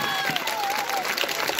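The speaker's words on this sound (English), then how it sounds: "Give a big round of applause for him." Audience applause at a school award ceremony honoring position-securing students, a steady wash of clapping with crowd noise and voices mixed in, continuous through the short stretch.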